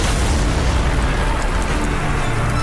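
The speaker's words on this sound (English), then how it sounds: "giant French flagship L'Orient is destroyed in a massive explosion" A massive explosion destroying the French flagship L'Orient in a naval battle, rendered as a loud, continuous, dense roaring rumble that fills the whole short stretch without pause.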